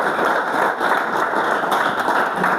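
A church congregation applauds the Lord during a sermon, with steady, dense clapping from a large crowd held at an even level throughout.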